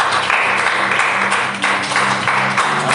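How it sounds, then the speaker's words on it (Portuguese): A church congregation at a Sunday family worship service claps steadily and loudly for the full stretch, a dense unbroken wash of palms with no voices standing out. "Que as palmas louvem ao Senhor."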